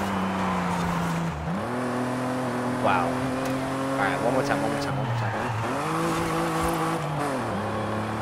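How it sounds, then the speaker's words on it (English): A Cadillac limo in Forza Horizon 5 drones through drifts, its engine pitch rising and dropping with gear changes while tires squeal and skid. A person talks briefly over the steady game audio. "All right, I'm gonna try drifting it."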